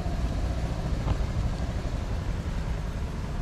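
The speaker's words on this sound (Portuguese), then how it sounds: "é um tratorzinho" A small work tractor engine runs on the Sugarloaf Mountain trail, a steady low rumbling drone that holds at even loudness throughout with no talk.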